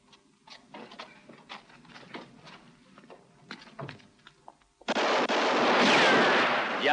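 Gunfire in a western film, a rapid run of sharp, close shots and ricochet-like cracks, scattered irregularly, then cut off by a sudden loud burst of broadband noise.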